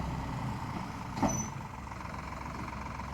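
A faint, steady small tractor engine idles with a low rumble on a farm, broken once by a brief hiss partway through.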